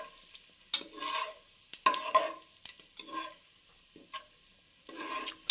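Onion, tomato and ground paste frying in hot oil for mushroom biryani, with a steady sizzle broken by repeated scraping stirs and short crackling bursts. No one speaks.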